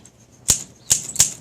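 A maroon 1959 Olympia SM3 manual typewriter strikes three sharp, close key clacks at uneven intervals, with quiet pauses between them.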